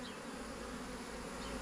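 A swarm of bees fills the air with a dense, steady buzzing hum that holds at an even level throughout. It is fairly faint, with no speech heard.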